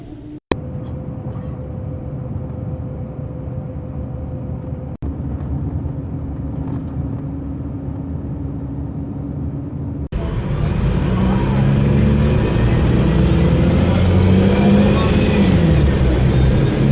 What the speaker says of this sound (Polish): o, odpalił silnik.